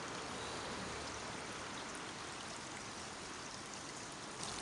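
Water from a river runs steadily through a forest in a soft, broad, continuous rush, faint and unbroken, with no other sounds.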